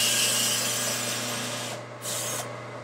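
A power drill tapping threads in HDPE plastic whirs steadily with a low motor hum, briefly easing off near the end before spinning up again, close and continuous.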